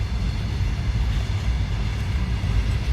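A long, heavy goods train rolls past nearby with a continuous low rumble and rattle of wagons, loud and steady throughout with no voices.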